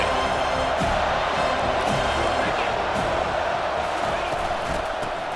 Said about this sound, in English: And wow, listen to this crowd noise. This stadium is vibrating.